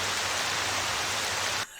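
Rain blasts in through an open window as a dense, steady roar of hiss and patter, loud and close, cutting off abruptly near the end.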